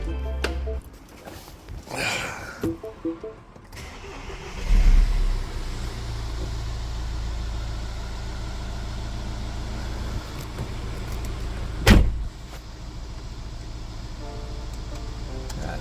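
A Mini Cooper D diesel engine is cranked and catches, then settles into a steady low idle that runs on, with a few clunks and a sharp knock, and someone speaking briefly near the start.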